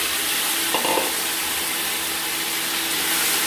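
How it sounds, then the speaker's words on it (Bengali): Potatoes fry in hot oil for a rohu fish curry with taro, giving a steady close sizzle and hiss throughout along with a few stirring scrapes, and no one talks. "আলুগুলো হালকা একটু ভেজে নিয়ে এর মধ্যে দিয়ে দিচ্ছি"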